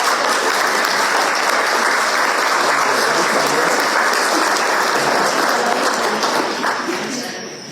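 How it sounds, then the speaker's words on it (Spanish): Sustained applause from an audience at a civic festival forum, dense and loud from start to finish before tapering slightly at the end. "Que le llegue el aplauso a la"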